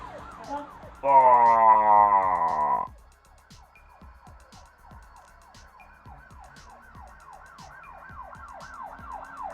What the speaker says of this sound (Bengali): হ্যাঁ বাইরে পুলিশ এসছে, ওই তো পুলিশ, পুলিশের গাড়ি।